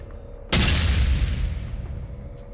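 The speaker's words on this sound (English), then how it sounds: "That grenade is going pretty fast. No, he's grenading." A grenade goes off in the shooter game Dead Effect as one sudden, loud, deep boom that rolls out into a long rumbling decay.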